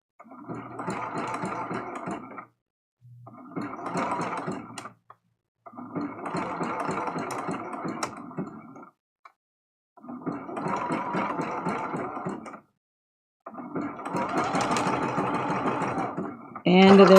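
A sewing machine stitches down raw-edge appliqué on heart rag quilt blocks, running in five steady bursts of a few seconds each with short pauses between, close and fairly loud with no talk.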